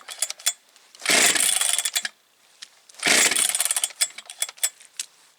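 Two bursts of a Jonsered 630 Super II chainsaw: each pull-start sputters into a loud, rough, brief revving that dies back, with faint rattles and clicks between attempts.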